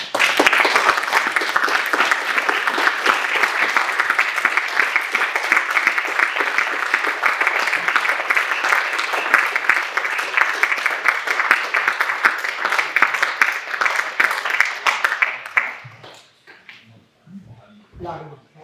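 Long, dense applause from a lecture audience, loud and sustained for about fifteen seconds before fading out into scattered claps and a few quiet voices.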